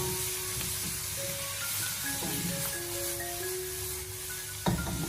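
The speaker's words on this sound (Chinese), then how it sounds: "然后再继续的开大火，将它快速的翻炒均匀" Celery and cured pork stir-fried over high heat in a wok after soy sauce goes in, a continuous loud hiss and sizzle with occasional scraping, faint tonal background music underneath, and a sharp clatter near the end.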